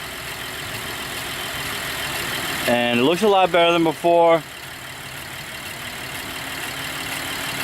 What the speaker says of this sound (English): it's idling pretty low right now